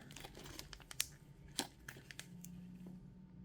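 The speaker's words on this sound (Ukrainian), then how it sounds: "пакет перев'язувальний медичний індивідуальний з еластичним бинтом" An individual medical dressing package with an elastic bandage crinkles softly as it is handled. The crackles are faint and close, with a few sharper snaps among them.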